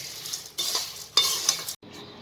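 A spoon stirs a papad poha mixture in a pan, giving a few scraping strokes with light sizzle and a brief pause, close and fairly loud, with no voices.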